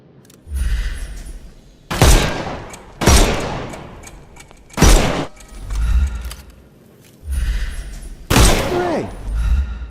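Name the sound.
gunshots in Sherlock Holmes Chapter One video game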